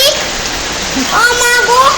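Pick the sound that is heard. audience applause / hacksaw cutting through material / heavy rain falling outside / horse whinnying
heavy rain falling outside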